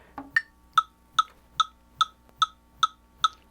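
Electric guitar playing a riff in an odd-meter pattern with accents, a steady run of nine evenly spaced, crisp picked notes sounding close and clear with no talking.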